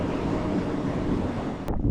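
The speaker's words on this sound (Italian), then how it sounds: "Oggi giornata particolarmente ventosa, abbiamo il vento qua fuori" Strong wind buffets the microphone outdoors by a rough sea, a loud continuous roaring gust with low rumbling turbulence that drops off abruptly near the end.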